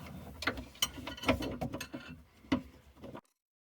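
A metal wing nut being hand-tightened onto the rod of a pop-up sink stopper, giving a short run of close, irregular clicks and scraping ticks before stopping.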